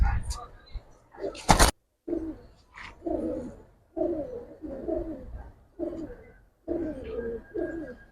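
A pair of Giribaz pigeons, male and female, coo in short repeated throaty phrases close by, with someone talking over and between the calls.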